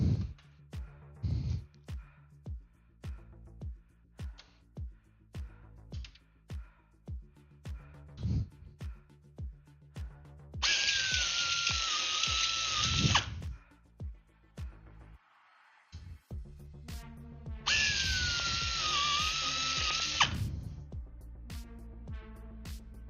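Two bursts of a high-pitched power drill run for a few seconds each, boring holes in a right side panel during a kit airplane build, set among repeated sharp clicks and taps from handling the parts and tool.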